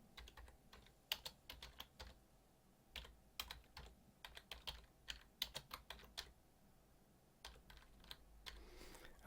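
Irregular bursts of keyboard typing, clicky keystrokes in quick clusters with short pauses, fairly quiet and close, no voices.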